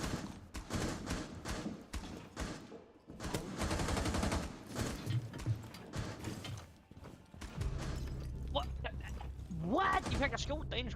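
Gunfire in a video game crackles in dense rapid bursts, loud and continuous across several seconds, with people talking over the shooting and a voice rising near the end.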